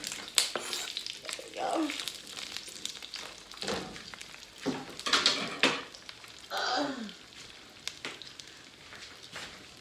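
Smoked sausages frying with cabbage in a hot pan give a soft crackling sizzle with intermittent bursts of stirring and scraping, close up, while someone speaks briefly between the sounds.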